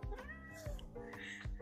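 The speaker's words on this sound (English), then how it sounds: "The cat is in the curtains." A cat meowing from inside the curtains at home: several short, close, tonal meows in a row, clear and fairly distinct, with no talk over them.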